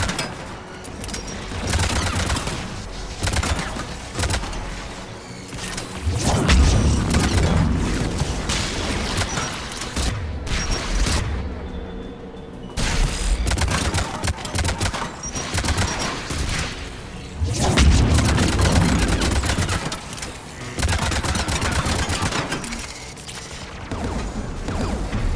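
Gunfire from guns defending a tower in Mass Effect Legendary Edition, sustained loud bursts of rapid automatic fire with heavy booming impacts throughout and no talk.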